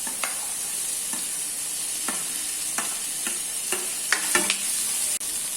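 Okra and tomato sautéing in a pan, a steady faint sizzle of frying underneath repeated scraping strokes of a spoon stirring the vegetables, with no talking.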